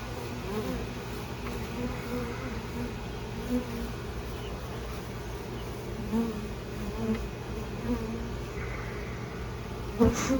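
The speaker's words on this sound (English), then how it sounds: "Still quite a few bees in the air." Honeybees buzz around a hive box as a colony is installed, a steady close swarm hum with individual bees droning past now and then, fairly quiet overall.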